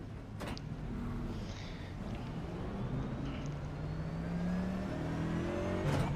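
A race car engine in a NASCAR Cup Series game at Nashville whines and revs through downshifts, with rising and falling pitch sweeps over a steady mid-level drone and a couple of sharp clicks.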